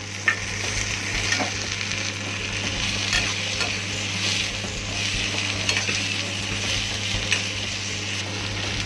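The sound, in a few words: tomatoes and onions sautéing in oil for chickpea curry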